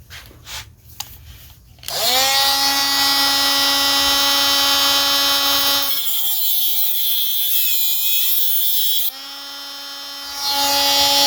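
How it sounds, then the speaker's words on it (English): A power tool cuts a slot into a stuck screw head on an AC capacitor-start motor, a loud, sustained high-pitched whine that holds steady, briefly drops and shifts pitch, then rises again after a few faint knocks at the start. "I'm going to just cut a slot in that and see if I can undo it with a normal flat-headed screwdriver."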